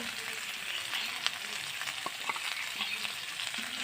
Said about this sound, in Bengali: তো মাংসটা হালকা ভাজা হয়ে যাওয়ার পর আমরা আগে থেকে ভেজে রাখা আলুটা দিয়ে দেব।